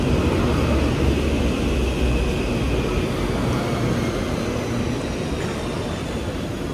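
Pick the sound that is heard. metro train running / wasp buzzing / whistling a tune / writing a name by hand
metro train running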